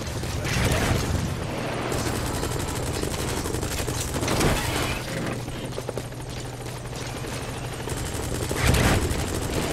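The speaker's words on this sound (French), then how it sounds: "J'entends une fusillade." Gunfire rattles through a Metal Gear Solid V: The Phantom Pain game scene, dense bursts mixed with helicopter-like rotor noise and a low engine drone, loud and continuous with a sharper burst near the end.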